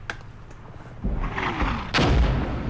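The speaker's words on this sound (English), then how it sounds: "Oh, we got some more artillery here" Artillery fire in the Armored Brigade war game: heavy booms land about a second apart, and a descending whistle trails the first blast before a louder second impact. No voices.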